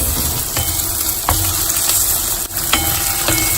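Onions, potatoes, carrots and beans stirred and sautéed in a pan, giving a steady close sizzle and frying hiss with a few soft scraping knocks of the spoon, no voices.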